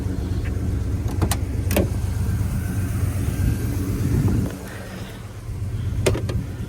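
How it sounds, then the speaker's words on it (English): A car idling a little high with a GM one-wire alternator kit fitted, a steady low engine hum close by with a few sharp mechanical clicks and a brief dip in level midway. "right now the car idle is a little high because of the GM one-wire alternator kit that came from CVF"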